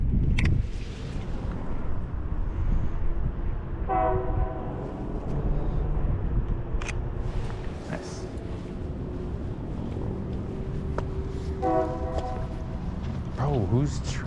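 A train passes on a street in Ontario, California, with a rolling rumble throughout and two short blasts of its horn partway through. It is fairly near, and voices are heard in between.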